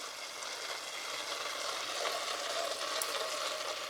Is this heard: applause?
no